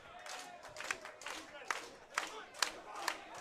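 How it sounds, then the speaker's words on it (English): A crowd at a fight series event roars and cheers in rising bursts, several swelling shouts over a few seconds, with a commentator's voice talking over the noise. "Crowd's coming alive."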